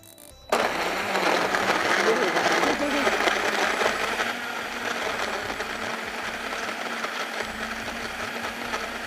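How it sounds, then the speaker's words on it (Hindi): A blender whirs steadily as it blends a cinnamon roll mixture with water, starting abruptly after a brief pause and running loud and continuous throughout, easing slightly partway through. "और अब इसको सिंपली हमने इसको ब्लेंड करना है, कुछ नहीं।"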